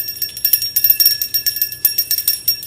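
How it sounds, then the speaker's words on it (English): A small hand bell is shaken rapidly to clear the energy, producing a bright, continuous jingling with many quick strikes, close and fairly loud, with no talk over it. "let's clear the energy. I've been liking this bell lately."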